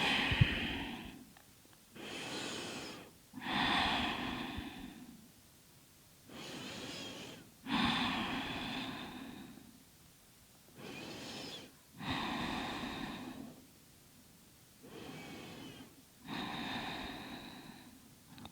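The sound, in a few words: deep breathing during hip opening yoga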